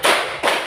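Two crisp hand claps, close together, from a group counting exercise in a classroom, each followed by a brief echo in the room.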